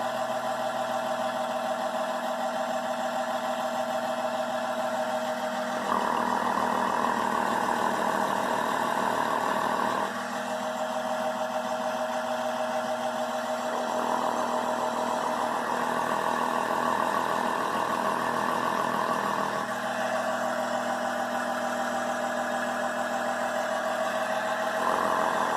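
A voice imitates an idling Cummins diesel engine, a steady low droning rumble that shifts between two alternating pitch levels, held continuously and alone with no other talk.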